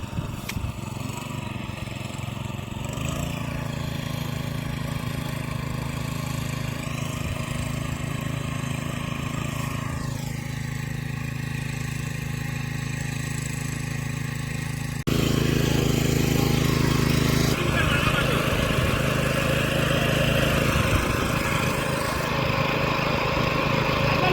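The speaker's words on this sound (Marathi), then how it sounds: "तिकडे ट्रॅक्टर आहे मित्रांनो थोडा ट्रॅक्टर दाखवतो" A tractor engine runs steadily at a constant drone, growing louder and rougher partway through, with no voices.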